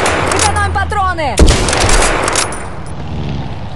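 Bursts of rifle and automatic gunfire ring out in the World War II shooter game World War Heroes, sharp close shots with echoing tails overlapping game sound effects.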